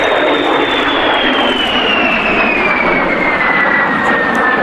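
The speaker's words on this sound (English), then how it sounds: "There is that whistling sound from the Havilland Goblin engine." A de Havilland Vampire T.11 passes at an air festival, its de Havilland Goblin jet engine giving a loud, steady roar topped by a high whistle that slowly drops in pitch as it goes by.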